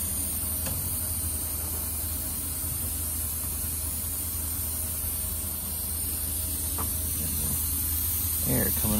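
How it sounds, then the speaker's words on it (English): Compressed air hisses steadily from a leak in the air system of a 2012 Ford F-550 4x4 mechanics service truck with crane and compressor, a constant broadband rush running throughout, with brief clunks near the end. "Air coming out somewhere."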